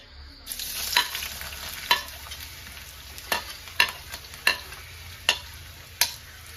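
Onions dropped into hot coconut oil for a squid fry, a steady faint sizzle broken by about eight sharp scrape-and-stir clicks of a spatula against the pan, close and with no voices.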